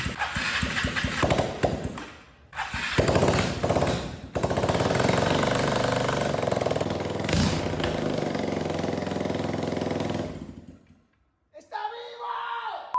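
A Piaggio X9 scooter engine, undergoing a budget restoration, cranks in short loud bursts with pauses, then catches and runs steadily and loud for several seconds before cutting off, with brief speech near the end.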